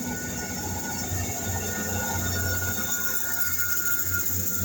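Passenger train departing Dean station, a steady close rumble of wheels and engine with a low throbbing drone and high metallic rail whine running continuously, with no voices.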